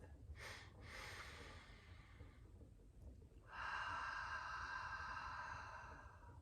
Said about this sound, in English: we're going to breathe in through our nose and exhale through our mouth